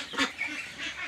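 Ducks on a meat-duck farm give a couple of short nasal quacks at close range over a low barn hum.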